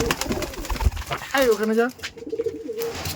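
Giribaz pigeons coo in a clear, swelling low call as the birds are let out, with a voice calling to them around it.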